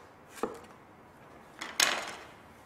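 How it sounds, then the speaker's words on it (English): A knife chops through a hard, woody parsnip on a board, cutting a fine dice: one sharp close chop, then a short pause and a quick burst of two or three louder cuts. "Parsnip, slightly woodier and harder than the other vegetables, so we're just going to go with quite a fine dice"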